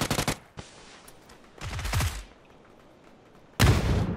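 Gunfire in a shooter video game: several sharp bursts of rapid shots, one near the start, another around the middle and a loud close burst near the end, separated by quieter stretches.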